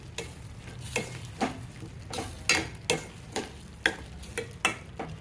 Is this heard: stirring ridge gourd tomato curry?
yes